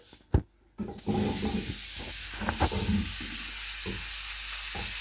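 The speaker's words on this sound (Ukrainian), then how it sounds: "Сковорідка розігріта, викладаємо гриби." Champignon mushrooms drop into a hot pan with a few bumps and clatters, then a steady loud sizzle of them frying carries on without talk.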